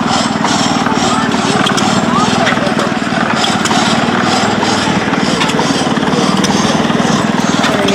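At a gas engine show, an engine-powered saw drives through a log of about 8 to 9 inches, its steady chugging and rhythmic cutting running continuously, loud and close, while people talk over it.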